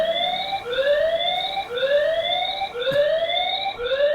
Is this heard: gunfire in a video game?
no